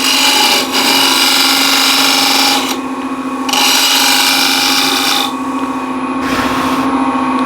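Wood spins on a lathe under a 3/4-inch square end scraper, giving a loud, continuous whirring hum with a steady tone. The scraping texture drops out briefly when the tool lifts, and there is no talking.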